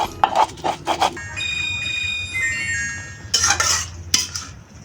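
Bottle gourd and spinach being stirred in a cooking pot, with short scraping strokes of a utensil against the pot, then a lull and further louder metallic scraping near the end.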